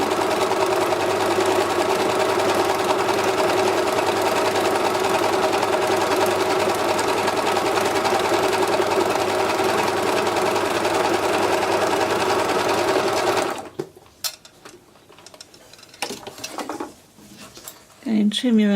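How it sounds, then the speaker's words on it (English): A sewing machine runs for a long, steady, even whirr while it stitches along the edge of a fabric beach bag, then stops, leaving quiet handling sounds. "So just machine along this edge all the way down."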